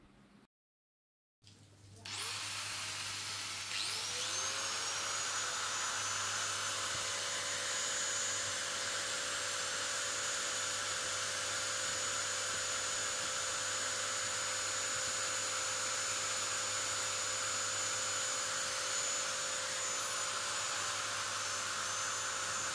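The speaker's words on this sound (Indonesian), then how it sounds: "Selanjutnya kita akan menguji tingkat kebisingan dan juga RPM dari ketiga gerinda." Angle grinders from local brands NRT Pro, Modern and Ryu, around 570 watts, spin up after a brief silence into a loud, steady high-pitched whine held at full speed for a noise test, close and continuous with no speech.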